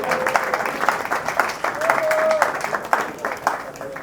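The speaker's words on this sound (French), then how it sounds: "Applaudissons." A school reception audience claps, a dense patter of many hands that swells and fades over a few seconds, with murmuring voices underneath.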